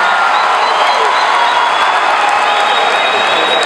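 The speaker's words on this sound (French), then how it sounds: "applaudissez d'abord" A large crowd at a concert in Yaoundé, Cameroon, gives loud, continuous applause mixed with cheering, a dense roaring wash that stays steady and unbroken throughout.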